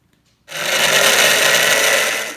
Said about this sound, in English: place it in the blender so that the bacteriophages will be agitated enough to come off